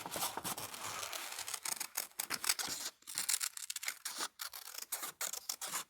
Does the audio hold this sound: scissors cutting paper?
yes